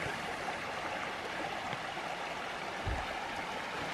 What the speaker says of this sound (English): Nice little section of running water.